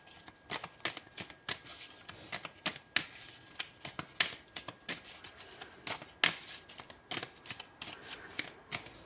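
Oracle cards being shuffled by hand, a close series of crisp riffling flicks and soft slaps in an uneven rhythm, quiet and alone with no talking.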